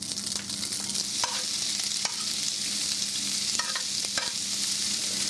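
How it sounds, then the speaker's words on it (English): Bacon sizzles and crackles steadily in hot oil, a constant hissing fry with occasional sharp pops and scraping stirs. "you dump in the bacon."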